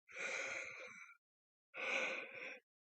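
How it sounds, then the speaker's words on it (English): Two long, breathy exhalations, quiet and close, separated by a short silence, like drawn-out yawns or sighs from one person. "Seriously, I like can't stop freaking yawning."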